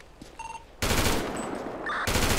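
AK rifles fire in rapid automatic bursts in a video game, loud, dense gunfire starting after a brief electronic tone and running almost continuously to the end.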